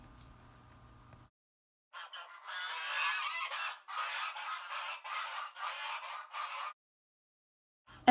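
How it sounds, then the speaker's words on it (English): A flock of Canada geese passes overhead honking, a loud run of overlapping calls that starts and stops in bursts for several seconds, with quiet gaps on either side. "As the sun comes up, a V of birds flies overhead. Long necks, slow wing beats. Canada geese flying over."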